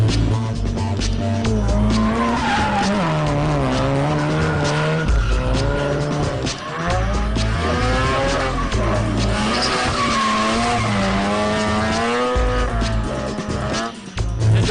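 Drift cars at California Auto Fest, including rotary-powered Mazda FDs, scream through sustained skids with loud, continuous tire squeal and rising and falling high-revving engine notes, close and unbroken throughout.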